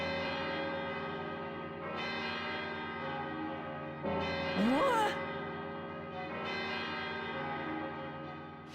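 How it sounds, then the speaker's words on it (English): Church bells in the video game Valkyria Chronicles 2 ring in a sustained, resonant peal, with a fresh strike roughly every two seconds over a steady background and a brief rising tonal swell near the middle. "Those bells mean you've been summoned to battle."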